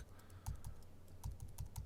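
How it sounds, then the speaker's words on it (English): Plus and minus keys tapped on a computer keyboard, a handful of crisp close clicks in irregular pairs and clusters over a quiet background, no voices. "I'm going to click plus and minus on my keyboard"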